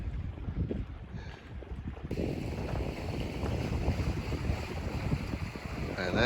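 A sailboat heads out into a bay on its first sail of the season, with steady wind buffeting the microphone and water rushing along the hull, a continuous broadband roar that grows fuller after the first two seconds.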